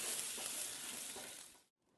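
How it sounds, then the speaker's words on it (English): Sauce for German-style roast beef, made with strong beef stock, boils and sizzles in a pan, a dense continuous hiss that fades out abruptly near the end. "Our sauce is now boiling."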